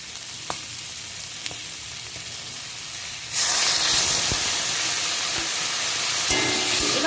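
Water poured into a pan of well-fried spice paste for a fish curry, the low steady frying hiss jumping suddenly into a loud, close, bright sizzle that keeps spitting and crackling.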